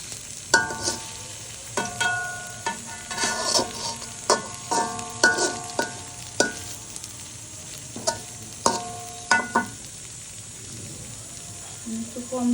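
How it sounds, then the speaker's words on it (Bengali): Egg fritters frying in oil give a low background sizzle broken by repeated metallic spatula clinks and scrapes at an uneven rhythm, fairly close. "বড়া করছি, ডিম দিয়ে বড়া।"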